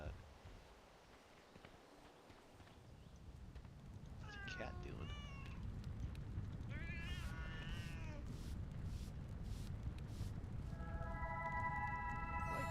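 A cat meowing in World of Warcraft, several distinct meows and wavering cries rising over a steady ambient game background, with a bright tonal chime near the end.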